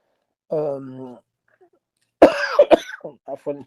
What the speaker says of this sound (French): c'est la toux, elle me perturbe.